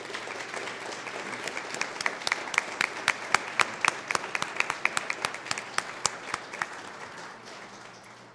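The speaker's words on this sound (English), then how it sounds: "let's give them a round of applause" An indoor audience at an oath of office ceremony applauds veterans with sustained, dense clapping. Louder individual claps stand out, and the applause fades toward the end.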